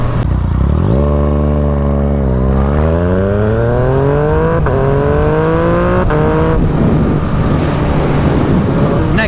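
A Yamaha FZ-09 motorcycle ridden fast, its engine loud and close as it revs up through the gears, pitch climbing steadily with brief shifts, under constant rushing wind noise.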